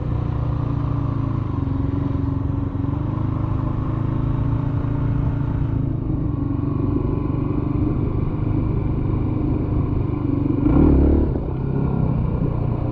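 A motorcycle engine runs close and steady while the rear wheel is dragged over a rock. Its drone stays constant, and a brief clattering bump stands out near the end.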